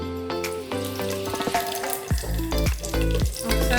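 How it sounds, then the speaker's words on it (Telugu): Dried red chillies, green chillies, curry leaves and spices frying in hot oil for vegetable biryani, a loud crackling sizzle under repeated stirring and scraping strokes of a spoon in the pan. "ఒకసారి బాగా ఇవన్నీ ఫ్రై చేద్దాము."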